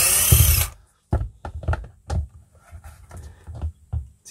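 A Makita power tool whirs briefly at the start and then cuts off, followed by a series of close, uneven clicks and knocks from handling a Makita DC9700 charger during repair.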